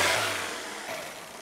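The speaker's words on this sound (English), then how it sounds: "Give it a rev up." A car engine revs briefly and then settles, a loud, close mechanical roar tapering off over a second and a half.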